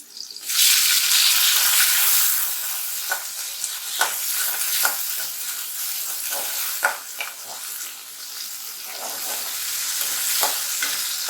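Onion and tomato fry in oil in a pan for radish chutney, a steady sizzle with repeated stirring clicks and scrapes of the spoon, close and fairly loud, with no talk.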